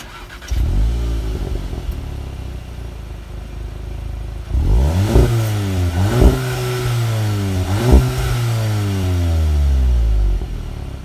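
A VW Golf GTI hatchback engine revs through its large dual exhaust, idling low before several rising and falling throttle blips, close and loud with no talking.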